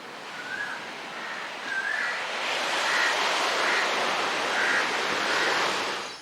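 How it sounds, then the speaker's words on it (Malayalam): Sea surf roars steadily below the seaward walls of Bekal Fort, a broad continuous wash of waves with faint whistling wind tones drifting over it, loud and close with no voices. "കടലിരമ്പുന്നത് ഇവിടെ നിന്ന് തന്നെ കേൾക്കുന്നുണ്ട്."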